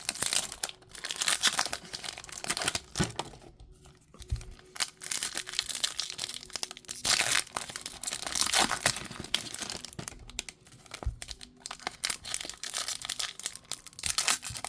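Trading card packs being power-ripped open, loud close crinkling and tearing of foil wrappers in repeated bursts, with no talking.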